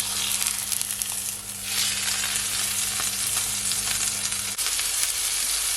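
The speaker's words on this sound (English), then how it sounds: "So now I'm gonna flip over my steak." A steak sizzles loudly in a hot pan right after being flipped, a steady close frying hiss with a low hum beneath that drops away near the end while the sizzle continues.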